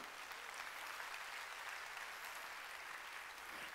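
A church congregation at a Sunday worship service breaks into sustained applause, a dense, even wash of many hands clapping at once, steady and unbroken throughout, with no talking over it.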